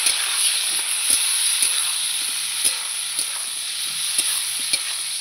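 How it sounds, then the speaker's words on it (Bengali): Chopped onions are stirred in a frying pan while rohu fish curry with elephant foot yam and taro is cooked: a loud, constant hissing sizzle with regular light clicks of a spatula against the pan. "এই যে পেঁয়াজ কুচিয়ে রেখেছিলাম, দিয়ে দেবো। দিয়ে আবার নাড়াচাড়া করে নেব।"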